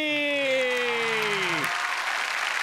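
A studio audience claps loudly and continuously for Medha Manjrekar on a Marathi comedy show, a dense wash of applause that starts under a fading sustained tone and keeps going.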